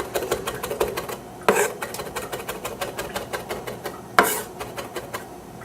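A sharp knife minces parsley on a cutting board in rapid, evenly spaced taps, close and crisp, with two heavier thumps partway through.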